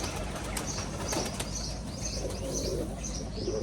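A black tumbler pigeon flaps its wings while tumbling in flight, soft repeated wingbeats coming and going over steady outdoor background noise.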